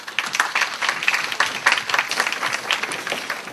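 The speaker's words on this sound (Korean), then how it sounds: "여러분 큰 박수로 맞아주십시오." An audience at a university academic and cultural festival claps warmly to welcome a student presenter, a dense, even burst of applause heard close with no talking.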